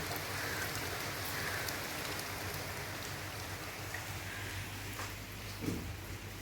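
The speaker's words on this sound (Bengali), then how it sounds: "আর এখানটা দেখুন বৃষ্টি পড়ছে।" Steady rain falls outside a home on a morning, a continuous soft hiss of drops on surfaces with a few faint knocks, heard from indoors at moderate distance.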